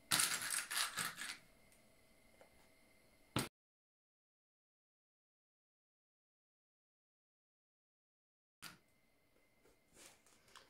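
Sewing machine stitching the corner seams of a handmade handbag with an interchangeable flap, a short burst of rapid mechanical clatter, then a long silence before a second brief run of stitching, close and fairly loud.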